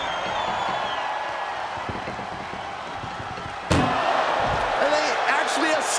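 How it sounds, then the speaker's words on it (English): An ambulance door slams shut with one loud, sharp bang midway, set against a continuous crowd-like background and a voice talking throughout. "Trying to at least slam one door shut."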